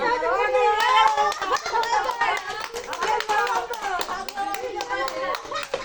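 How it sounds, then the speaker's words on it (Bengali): Children clap their hands during a number-matching game, with sharp, irregular, closely spaced claps mixed with lively children's chatter and speech throughout. "হাততালি দাও"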